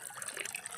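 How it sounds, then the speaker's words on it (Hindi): Water gushing from a foot-operated hand pump tap on a village farm, a brief steady splashing rush heard close and alone. "ये देखिए मेरा नल पैर वाला नल है"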